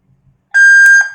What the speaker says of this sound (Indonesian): Kita pencet sampai dia bunyi beep.